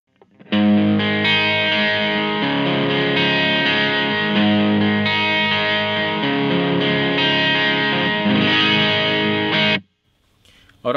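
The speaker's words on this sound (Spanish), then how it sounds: "Lo tengo en modo distorsión. Ustedes pueden usar cualquier distorsión y suena de esta forma." Sustained distorted electric guitar playing a worship song solo, thick and saturated with a steady loud tone for about nine seconds before cutting off, heard alone without voices.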